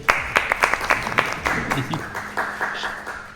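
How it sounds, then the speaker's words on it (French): Scattered clapping from a small audience, irregular and moderately loud, with people talking quietly underneath. "Donc, on peut applaudir Amir, s'il vous plaît"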